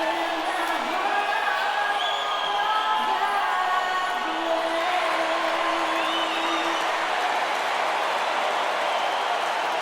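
Hometown crowd cheering in the arena before an NBA 2K16 basketball game in Brooklyn, a steady broad roar with scattered whoops and applause over the full stretch, fairly loud and continuous.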